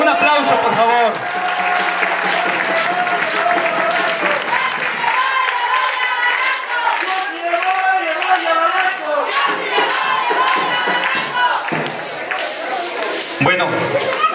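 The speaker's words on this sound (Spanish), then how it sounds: "Un aplauso, por favor." A crowd applauds a candidate for local deputy at a campaign event in Cuautla, Mexico. The clapping is loud, sustained and fairly close, and a voice talks over it through much of the applause.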